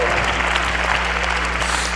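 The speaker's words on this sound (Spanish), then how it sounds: "let's clap our hands to the Lord tonight" A congregation at a church service clapping their hands, a loud, dense and steady burst of applause close up, with a low hum underneath and voices mixed in.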